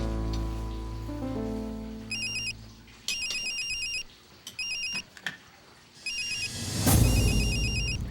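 A telephone rings in repeated electronic bursts, with pauses between trills, over a rushing background like rain or passing traffic, fairly close and steady in level.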